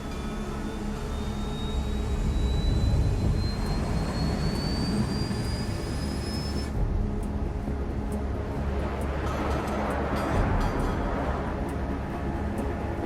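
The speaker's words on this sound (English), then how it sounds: "All this plane could do was take off, accelerate, and fly up." A jet fighter in Ace Combat 7 roars steadily as it takes off and accelerates, with a loud sustained engine drone and a rising high whine that cuts out midway, leaving a rumbling roar.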